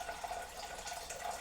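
Water runs steadily into a Crock-Pot 7-quart slow cooker, a soft continuous trickle heard close but faint, with no talking.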